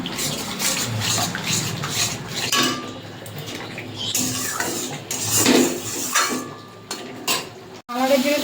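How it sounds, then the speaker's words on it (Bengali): A ground paste of cumin, coriander, green chilli and ginger sautéed and stirred in a pan for a Bengali eggplant and amudi fish curry, with steady, close scraping and clattering of utensil against metal throughout. "এই যে মশলা কষানো হয়ে গেছে"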